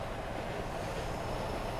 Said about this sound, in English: It's a little train coming round.